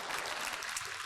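Applause from a conference audience after a training presentation, a steady dense patter of clapping at moderate distance with no clear talk over it.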